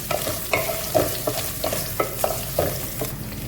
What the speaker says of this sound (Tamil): இந்த பூண்டை நல்லா இந்த எண்ணெயில் வதக்கிக்கலாம்.